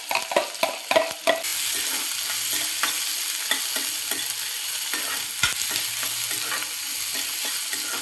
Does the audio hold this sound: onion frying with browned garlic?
yes